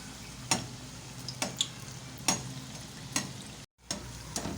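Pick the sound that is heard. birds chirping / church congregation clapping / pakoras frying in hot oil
pakoras frying in hot oil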